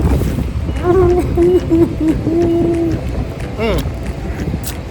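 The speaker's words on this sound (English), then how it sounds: "It's kind of windy out here." Gusty wind buffets the microphone outdoors at a Buc-ee's in Florence, South Carolina, a steady low rumble beneath a person talking.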